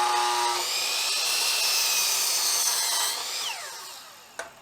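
Power saw trimming wooden shed floor boards against a stop block: a steady high whine through the cut for about three seconds, then winding down, ending with a brief knock, close and loud with no talk.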